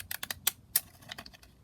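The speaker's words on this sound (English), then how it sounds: "I'm just going to cut kind of effectively with my zigzag scissors the kind of base outline for my postage stamps" Zigzag scissors snip through paper while cutting the base outline of faux postage stamps, giving a quiet run of crisp, irregular clicks and snips close by.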